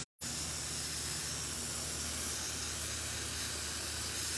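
An airbrush sprays paint onto a hoodie, giving a steady, close, unbroken hiss that starts abruptly after a brief silent gap and runs evenly to the end.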